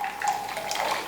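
A thin stream of water is poured into pomegranate juice, a soft, steady trickle that carries on close by for about a second with no talking.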